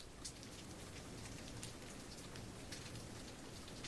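Faint evening rain falls as a continuous soft hiss with scattered light droplet ticks, steady and distant, with no voices and no thunder.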